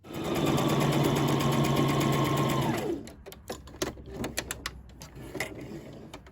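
A sewing machine runs a long basting stitch across the side seam and top edge of a pocket on a jogger set, one loud, steady whirring run for about three seconds, then stopping, followed by faint clicks and handling noises.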